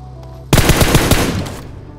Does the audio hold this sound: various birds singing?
no